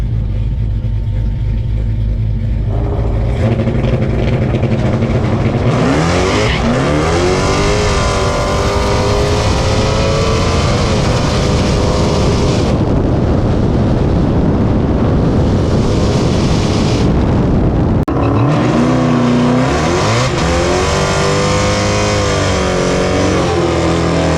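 The Frostbite drag car launches at a Hellcat drag-racing event in Orlando, screaming loud and close as its tires spin. The engine note sweeps up through the gears, drops, and climbs again as the car pulls away, over steady crowd and track noise.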